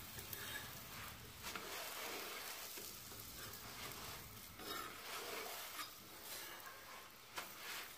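A beef qeema paratha fries in ghee on a hot pan, giving a steady low sizzle with soft scraping as it is turned and rolled, fairly quiet and unbroken by voices.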